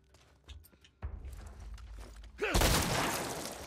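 A gunshot in The Last of Us Part 1, a loud burst with a long roaring tail that follows lighter clicks and thumps of in-game movement, with a voice briefly heard near the start.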